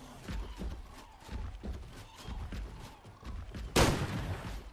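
Shotgun fire in ARK Ascended, a single heavy blast landing near the end after a stretch of low, busy thumps and movement noise.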